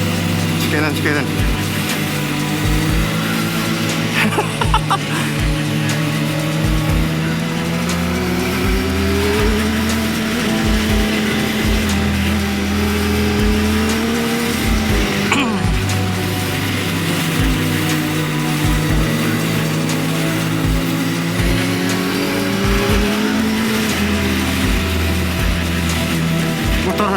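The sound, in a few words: motorcycle engine revving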